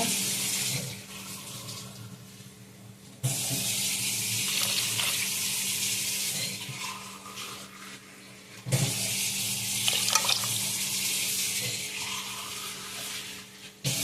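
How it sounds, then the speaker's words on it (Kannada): Water runs into a pot of tomato rasam made without lentils, a steady close gushing flow that starts and stops twice, with no talking. "ಇದಕ್ಕೆ ನಾವು ಎಷ್ಟು ನೀರು ಬೇಕು ಅಷ್ಟು ಹಾಕುವ"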